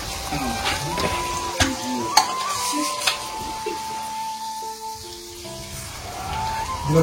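Fish frying in a pan for a chepala pulusu curry, a steady crackling sizzle running throughout under a voice talking, with a few sharp spoon clinks against the pan.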